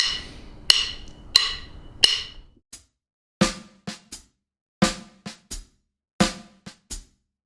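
An R&B drum groove played alone, alternating loud backbeat hits with quiet ghosted snare notes in a steady syncopated pattern, the accented strokes standing out sharply against the soft ones.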